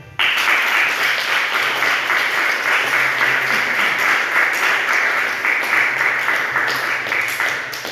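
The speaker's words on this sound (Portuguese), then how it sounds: "Pode aplaudir." Steady audience applause at a Catholic worship gathering, dense and sustained at an even level, with a low hum and faint voices underneath.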